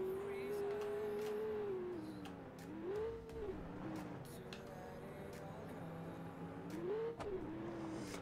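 Car engine in BeamNG.drive revving and rising in pitch as it gently accelerates, dipping and climbing again twice, with someone talking over it.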